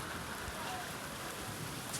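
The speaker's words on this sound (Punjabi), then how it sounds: "ਮੀਂਹ ਹੋ ਗਿਆ ਅੱਜ ਵਧੀਆ" Steady rain falling on a rooftop in rural Punjab, a dense, even hiss of drops with no gaps, moderately loud and close throughout.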